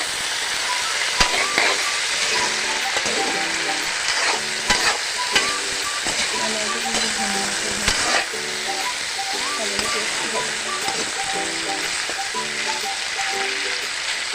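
Garlic and cumin paste frying in a pan for an Assamese pork dish, with a loud continuous sizzle, repeated clinks of a spatula being stirred, and a background melody playing throughout.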